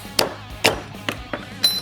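A hammer strikes a sword handle to knock it loose, giving five sharp, separate metallic whacks spaced about half a second apart. Each hit is close and loud, with a short ring after the impact.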